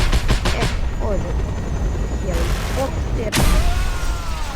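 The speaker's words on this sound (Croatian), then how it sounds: "That helicopter will tear us to pieces!" In the Just Cause 2 video game, bursts of rapid gunfire crackle over the steady thrum of a helicopter, loud and close, with sharp blasts that cut in and out while a voice speaks over the action.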